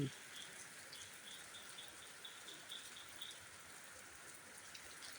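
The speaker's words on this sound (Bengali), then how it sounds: "বৃষ্টি পড়ছে।" Rain falls steadily on a large umbrella outdoors. It makes a faint, even patter with no pauses and no voices.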